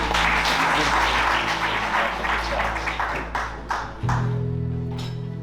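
A crowd at a traditional Burundian wedding applauds in a broad, steady wash of clapping that gradually thins toward the end, with a low hum underneath.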